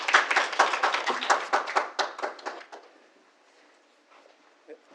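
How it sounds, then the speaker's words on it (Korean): Applause from a small audience welcoming a speaker at a presentation, a few seconds of brisk clapping from several people, close and distinct, tapering off quickly into near silence with a faint sound at the end. "모두 큰 박수로 맞이해 주시기 바랍니다."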